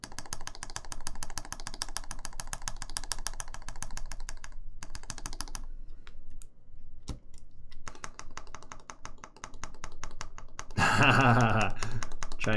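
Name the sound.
typing on a custom mechanical keyboard (Caustic Custom TGR 910SE)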